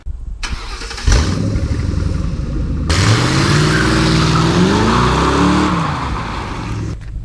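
A tuned Ford Crown Victoria engine revs hard and loud during a burnout, with a sharp start-up surge followed by a sustained, rising roar and shifting pitch sweeps, then a brief drop near the end.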